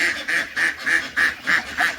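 Farm ducks quack at feeding time, about seven loud, evenly spaced nasal quacks in a steady rhythm, close by with no talking.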